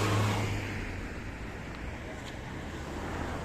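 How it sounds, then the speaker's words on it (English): Road traffic in the Triangle area of Paphos, Cyprus, where one car after another passes along the street; a steady, fairly loud broadband wash of engine and tyre noise with a slightly louder start and no speech. "whenever we want to cross the road, there's car after car after car"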